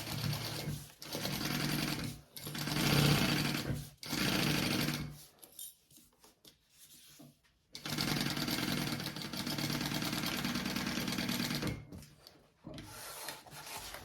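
A sewing machine runs a seam in several separate bursts of steady, loud whirring, each a few seconds long, with short quiet pauses and handling noise between them.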